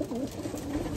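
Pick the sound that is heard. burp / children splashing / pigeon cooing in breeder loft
pigeon cooing in breeder loft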